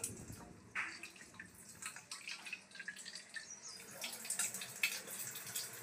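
Tap water running and splashing into a bathtub, a steady close wash of water with small drips and splashes throughout.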